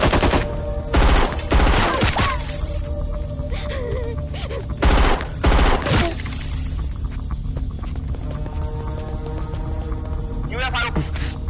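Rapid bursts of automatic gunfire ring out close by, with a loud flurry at the start and another midway, over a steady droning background.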